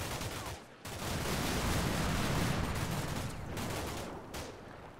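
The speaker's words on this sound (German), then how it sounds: "Da geht eine Granate raus." Combat Mission Shock Force 2 wartime gunfire with a grenade blast: dense, sustained rattling bursts and heavy explosive noise, loud and continuous for several seconds with brief dips in intensity.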